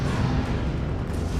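Grenades going off in the video game Borderlands, heard as a loud, sustained, rumbling blast that fills the whole moment.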